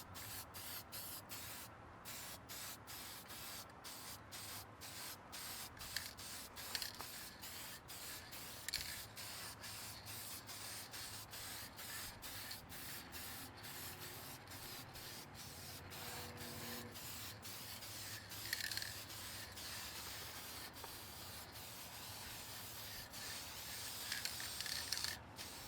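Aerosol paint hisses steadily onto aluminum Honda CT70 wheel hubs, a faint, continuous close spray broken by short pauses and soft handling noises.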